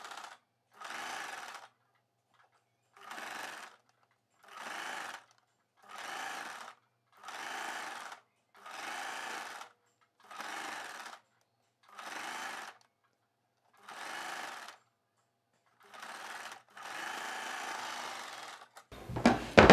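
A sewing machine stitches the neckline of a blouse in short, even bursts with brief quiet gaps between them, a longer run near the end, heard close and alone.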